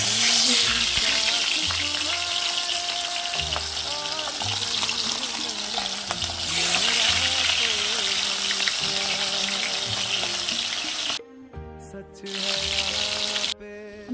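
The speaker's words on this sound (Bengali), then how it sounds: "তেল গরম এবার আমি মাছগুলো একটা একটা করে ছেড়ে দেবো" Pomfret fish fry in hot oil with a loud, bright, continuous sizzle and crackle. Melodic music plays underneath, and the sound briefly drops out near the end.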